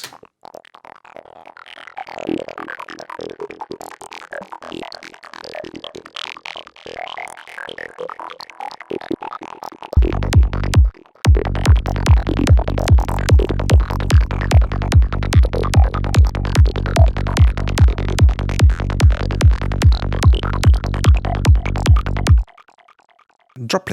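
Sylenth1 synthesizer playing its psychedelic 'Spungle' preset: a loud, steady run of rapid repeated pulses with a heavy low fundamental and dense harmonics, cutting off abruptly near the end.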